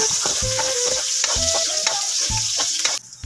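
Garlic and onion sauté in hot oil in a pan with a loud, close, steady sizzle, broken by rhythmic scraping and clacking as a utensil stirs the pan. The sizzle drops suddenly near the end.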